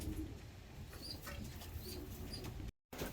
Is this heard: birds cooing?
yes